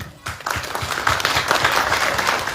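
Loud audience applause at an Ambedkar Jayanti enlightenment programme in Visakhapatnam, honouring Pankaj Kumar. It begins after a brief pause and settles into dense, sustained clapping from a large crowd.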